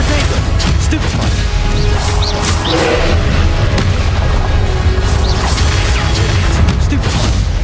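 Spell blasts and magical impacts from the video game Hogwarts Legacy crash and boom in a dense, continuous wash of combat effects, with whooshes and thwacks layered over a loud, steady rumble.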